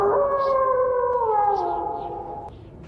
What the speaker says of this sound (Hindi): तभी कहीं दूर से कुत्ते की रोने की आवाज़ सुनाई पड़ी